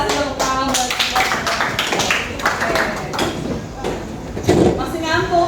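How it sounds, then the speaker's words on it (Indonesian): A classroom claps in steady, dense applause that runs throughout, with voices talking over it. "terima kasih tepuk tangan buat kita"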